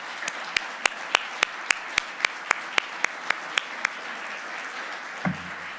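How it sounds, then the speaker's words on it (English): Steady, evenly spaced hand claps at a conference, about fifteen sharp, moderately close slaps in a regular rhythm, then they stop and a brief low thump follows. "So one more round of applause."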